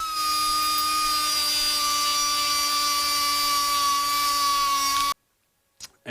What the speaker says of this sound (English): I opted just to finish it by hand with a die grinder.